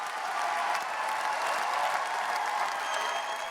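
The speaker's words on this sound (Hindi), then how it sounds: "तालियों की गड़गड़ाहट के बीच पेरिस में 195 देशों के प्रतिनिधियों ने जलवायु समझौते पर मुहर" Delegates applaud at the Paris climate agreement, a dense, sustained burst of clapping from a large crowd that holds steady for a few seconds.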